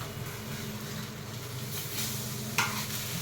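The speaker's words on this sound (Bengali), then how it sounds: "अंडा फ्राई हो रहा है फ्रेंड्स" An egg fries in oil in a pan, a steady close sizzle with light stirring and one sharp scrape or tap late on, no one speaking.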